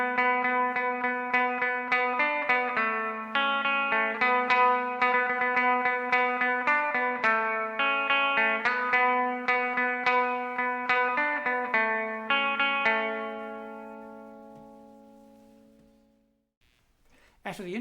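An electric guitar plays an intro, a steady stream of picked notes ringing through effects such as echo and reverb, then fading out gradually into a long decay.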